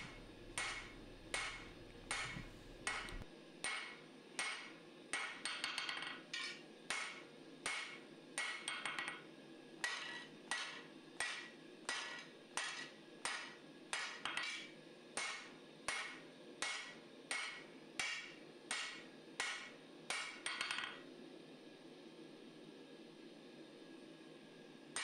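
Hammer blows forging a steel Bowie knife blade, about thirty sharp ringing strikes in a steady, quick rhythm, close and loud, with a short pause midway and faint hum after the blows stop.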